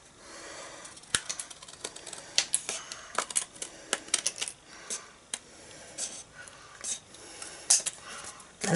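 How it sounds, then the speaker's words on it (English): Scissors snip excess paper off a handmade card in a string of sharp, close clicks and crisp cuts, irregularly spaced over a quiet background. "I'm just going to get my scissors and we're just going to cut all of this off."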